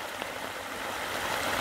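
The Fuengirola river rushing in full spate during heavy rain, a broad steady roar of fast water that fills the scene and swells slightly toward the end.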